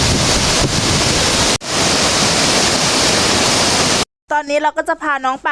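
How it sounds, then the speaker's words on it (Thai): Steady broadband rush of stream water flowing at Khlong Lan waterfall in Khlong Lan National Park, loud and continuous, cut off near the end by someone speaking over quieter surroundings. "ตอนนี้เราก็ลงมาเล่นน้ำกันที่ลำธารกันแล้วนะคะ"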